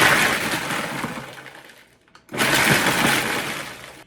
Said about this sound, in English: Now we blend.